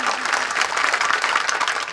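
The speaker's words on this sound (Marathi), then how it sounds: "आमच्या गणेश बाबा सावळेंसाठी जरा जोरात टाळी वाजवा सगळ्यांनी" Audience at a kirtan clapping loudly and continuously, a dense, steady burst of applause from a crowd, close and filling the whole moment.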